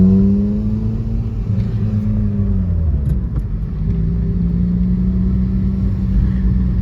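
An old vehicle called the Echo is driven along a road on a maintenance trip, with a loud, steady low engine rumble and drone that shifts pitch slightly as it runs. The engine is heard close from inside, with no speech.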